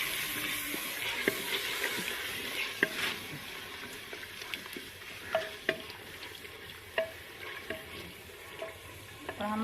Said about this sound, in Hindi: हम मसालों को अच्छे से थोड़ी देर के लिए भून लेंगे।